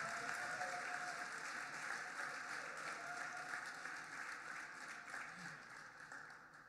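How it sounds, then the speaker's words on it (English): A round of applause for hometown heroes and local leaders at a Louisville gathering, a broad, even crowd clapping that holds steady and slowly tapers off, heard at a distance and fairly faint. "let's give the hometown heroes and local leaders a round of applause"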